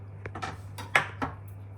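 A utensil stirring sweet cheese pie filling with raisins in a bowl, a few quick scraping clinks and taps against the bowl's side over a low steady hum.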